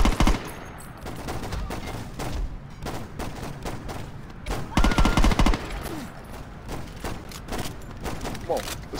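Rapid bursts of automatic gunfire from the video game Saints Row 2, loud and sustained with repeated volleys and sharp cracks, mixed with game effects and occasional voice.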